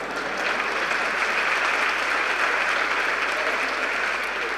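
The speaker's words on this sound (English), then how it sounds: "Please give him another round of applause." An audience at an honorary doctorate ceremony for Hugh Masekela claps in sustained, dense applause, steady and fairly loud throughout with no voices standing out.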